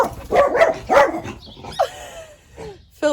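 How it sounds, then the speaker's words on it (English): A dog barks at a bird outdoors, with a few sharp, close barks followed by whining yips and a softer whimper. "He's off to bark at a bird."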